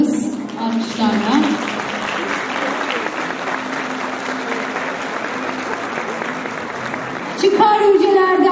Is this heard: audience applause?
yes